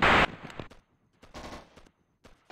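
Machine gun fire in the Operation Flashpoint video game comes as short, close bursts with gaps between them, loudest at the very start and fainter in scattered volleys after.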